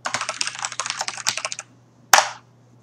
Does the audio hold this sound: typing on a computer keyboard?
yes